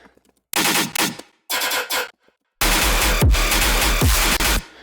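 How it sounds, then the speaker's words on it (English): Heavy, distorted gunshot-like bass bursts in a rhythmic pattern, chopped into short blasts with gaps, then a longer booming stretch with pitch drops. "Our B section is more of a resampled gunshot bass that we made."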